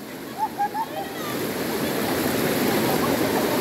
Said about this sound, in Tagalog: Malakas yung current niya, yung agos.